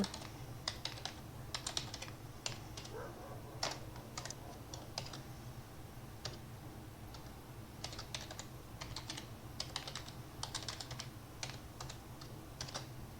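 A password being typed on a computer keyboard during setup of a new PC, with steady clicky keystrokes in quick bursts and brief pauses, close and fairly quiet over a low background hum.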